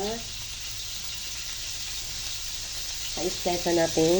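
Sliced mushrooms go into hot, bubbling butter in a pan, giving a steady soft sizzle while someone talks over it.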